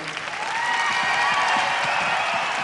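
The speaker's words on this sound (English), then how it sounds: "A big cheer then for the local couple" A ballroom crowd at the 1999 European Latin dance championships in Helsinki bursts into loud sustained applause and cheering for a local dance couple, a dense roar of clapping that swells early and holds steady.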